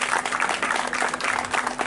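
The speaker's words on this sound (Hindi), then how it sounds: "तालियां जोर से मारो तालियां" A crowd at a Banjara community felicitation event claps loudly when urged, a brief dense burst of many hands with a faint steady hum beneath.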